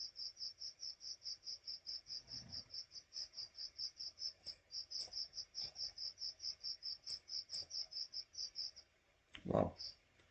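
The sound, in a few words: grasshoppers or crickets chirping outdoors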